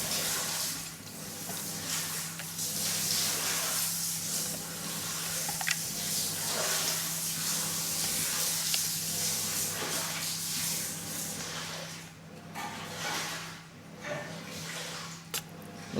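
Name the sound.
hot water hissing and steaming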